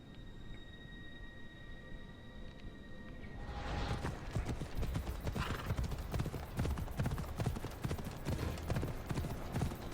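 Horse hooves clip-clop in the Assassin's Creed Odyssey video game, faint at first, then growing louder into a brisk, steady trot of dense hoofbeats as the horse moves along.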